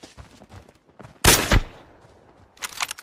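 A single sharp, loud sniper gunshot in the video game Arena Breakout bursts out mid-clip, followed by a shorter burst of noise near the end, over quiet background chatter.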